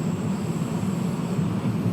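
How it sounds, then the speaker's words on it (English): Train engine and traction motors in the Train Sim World 6 game on the Suffragette Line, a steady low droning hum with a faint high whine, continuous and fairly close. "I can hear the engine, the traction motors."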